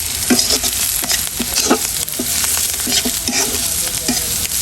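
Onions, chilies and dried shrimp fry in a pan: a constant sizzle with quick, rhythmic scrapes and clacks of a spatula stirring, close and fairly loud.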